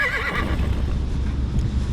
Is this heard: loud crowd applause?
no